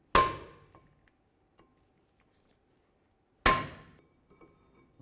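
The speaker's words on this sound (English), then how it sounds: "Give them a tap to lock them in." Two sharp metallic taps drive the mounting screws into a wheel hub on a 2002-2006 Honda CR-V, each a close, bright strike that rings out briefly, about three seconds apart with near silence between.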